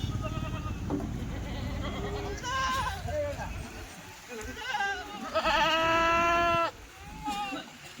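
Kathiyawadi goats on a goat farm bleat several times in a wavering, nasal way, some calls overlapping, while people talk nearby.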